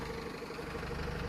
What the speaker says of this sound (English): bad running of this engine